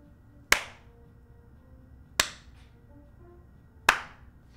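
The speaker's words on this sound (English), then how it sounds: "This is now where I clap and make sure the audio matches my mouth." Three single hand claps, spaced well apart and evenly timed, each one a sharp, close crack with a short ringing tail in an otherwise quiet room.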